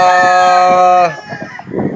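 A 3/4 Sweater 1/4 Boston battle stag gamefowl on a Batangas game farm crows once, loud and close, its long harmonic call breaking off into a few short clucks and other fowl noises.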